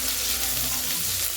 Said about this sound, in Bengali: কড়াই নিয়ে তার মধ্যে সর্ষের তেল দিলাম, তার মধ্যে পাঁচফোড়ন আর শুকনো লঙ্কা দিয়ে ফোড়ন দিলাম, তারপরে কুচনো পেঁয়াজ দিয়ে দিলাম